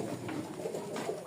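Pigeons cooing in a loft of flying pigeons, soft repeated low coos close by over a faint rushing background.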